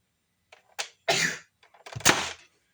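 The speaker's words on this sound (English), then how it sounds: "Give me a second. I gotta sneeze." Someone sneezes up close, with a couple of sharp breaths leading into two forceful sneezes in quick succession.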